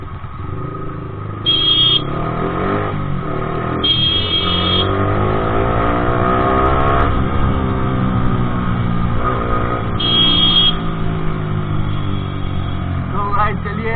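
Road traffic on a busy street, cars and motorcycles passing close by with rising and falling engine drones, several sharp horn blasts on top, loud and continuous with a voice faintly in the background.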